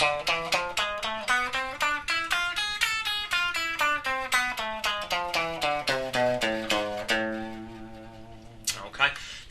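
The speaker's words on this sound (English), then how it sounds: "A harmonic minor sounds like this." A guitar plays an A harmonic minor scale note by note, each pluck ringing and decaying in an even rhythm as the line climbs and then descends, clear and alone with a brief scrape near the end.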